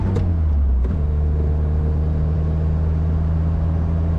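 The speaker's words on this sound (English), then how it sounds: "Little 4-cylinder accelerates as you would expect." A small 1969 MG Midget four-cylinder engine accelerating, heard as a steady loud low drone with a rising hum and a couple of brief knocks near the start.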